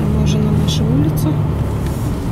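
A car drives past on a residential street, a brief low rumble of engine and tyres heard from inside a moving vehicle, steady and moderately close.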